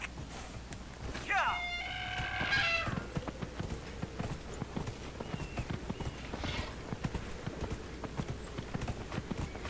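Horse hooves clip-clopping at a steady riding gait in the video game Dragon Age Inquisition, a rhythmic stream of hoofbeats heard after a short burst of game sound.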